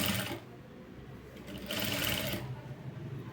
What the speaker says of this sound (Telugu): ఇలా నీట్గా స్టిచ్ చేసుకుంటూ వెళ్ళిపోవాలి చూడండి